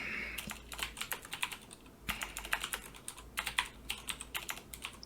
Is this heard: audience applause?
no